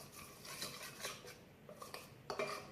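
A spoon clinks and scrapes against a bowl while a chocolate mixture is stirred, soft and close with a few brighter taps.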